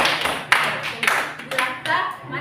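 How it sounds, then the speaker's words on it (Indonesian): A classroom bursts into short rounds of hand clapping for a classmate, several uneven bursts of applause close by. "tepuk tangan untuk teman"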